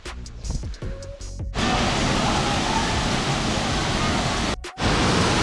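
Close by, a waterfall roars as a loud, dense, unbroken rush that comes in abruptly after a quieter opening and briefly cuts out near the end, with no speech heard.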